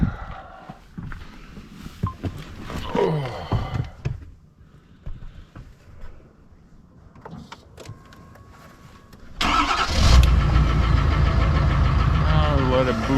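A pickup truck engine cranks and catches near the end, settling into a loud, steady idle close by, after a stretch of quieter handling noises and movement.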